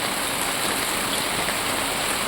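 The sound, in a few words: rain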